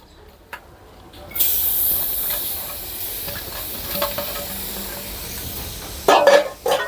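Grated coconut drops into a hot kadai and starts a soft steady sizzle that hisses on after a quiet start, with a brief clatter near the end.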